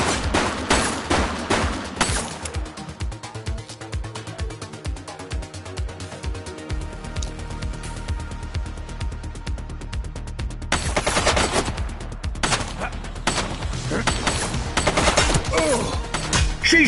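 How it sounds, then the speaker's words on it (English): A woman fires at police in The Precinct video game: long, loud, rapid bursts of automatic gunfire that run almost continuously, with only a little talk underneath. "She's shooting!"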